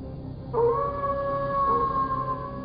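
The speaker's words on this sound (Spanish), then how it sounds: "El aullido del lobo corrió como un escalofrío a lo largo de la falda de la montaña" A lone wolf gives a long, rising howl that starts sharply and holds a steady, wavering tone, fairly clear over a faint background hum.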